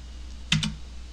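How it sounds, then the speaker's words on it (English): The enter key of a computer keyboard is tapped twice in quick succession, two crisp close clicks against a quiet room. "Spam the enter key"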